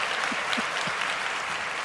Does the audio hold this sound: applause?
yes